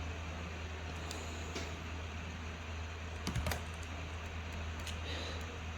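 Typing on a computer keyboard while editing theme settings for a Vue.js admin template, a few faint scattered key clicks and one quick cluster of taps over a steady low hum, quiet and close.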